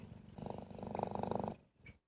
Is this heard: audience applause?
no